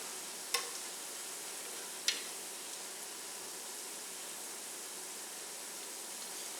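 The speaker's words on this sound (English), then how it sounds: "you want to let these fry just until they're beautifully browned on the underside" Zucchini fritters frying in a pan, a steady, faint hiss of sizzling oil with two brief crackling pops early on.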